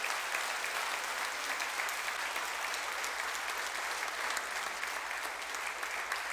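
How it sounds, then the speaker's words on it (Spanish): A church congregation gives a long, full round of applause for the Lord, with dense, even clapping that holds steady throughout. "¿Cuántos le pueden dar un aplauso grande al Señor?"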